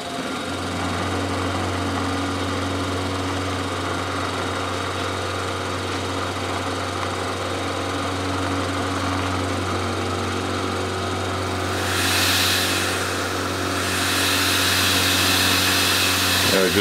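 A milling machine cutting a propeller profile hums steadily and loudly throughout, with a constant motor drone; a brighter hiss joins near the end.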